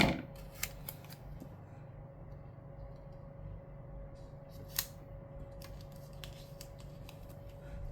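Scissors trimming paper while setting up a weekly planner, several light, sharp snips spread across the stretch over a steady background hum.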